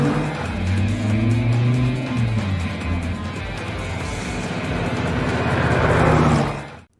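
A Dodge Viper SRT sports car drives past loud and close in a film, its engine roaring with shifting pitch and tire noise before cutting off abruptly at the end.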